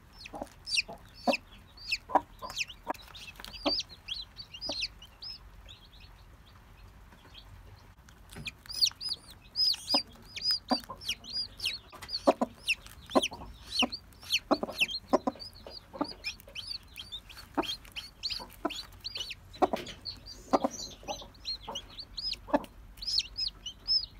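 Newly hatched chicks peep and chickens cluck as chicks break out of their eggs, a busy stream of sharp, high chirps and clucks at close range, repeated continuously with a short lull partway through and no talking.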